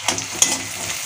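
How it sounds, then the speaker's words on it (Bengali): Chopped onions sizzle as they hit hot oil in a pan for a village-style chicken dish, a short crackling burst with a few stirring scrapes, close and moderately loud, no talking. "এবার তেলটা গরম হয়ে যাওয়ার পরে দেব পেঁয়াজ কুচি"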